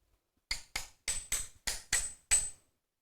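An instrument maker taps a wooden hand plane with a hammer to adjust it in a traditional Korean instrument workshop, seven sharp, close knocks spaced irregularly with silence between them.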